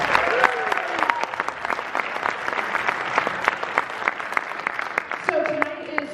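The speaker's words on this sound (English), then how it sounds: "Let's give our performers a round of applause." Audience applause for performers at a school jazz concert by public school jazz ensembles, steady dense clapping from a sizable crowd throughout with a few faint voices mixed in.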